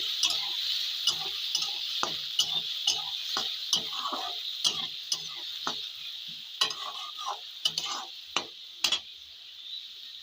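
Onions frying in a pan hiss continuously while a spatula stirs them in quick, rhythmic scrapes and taps, close and fairly loud with no voices.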